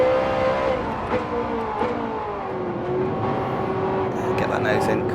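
Ferrari F430 Scuderia V8 engine revving hard in Gran Turismo 7 at the Nürburgring, with a sustained, rising and falling high-pitched wail that bumps the rev limiter. It stays loud and steady throughout, with game effects layered over it.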